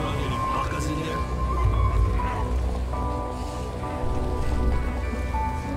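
Rain in the video game Dead Island Riptide, a steady hiss of drops on surfaces near a corrugated shed, constant and fairly loud, with voices talking over it.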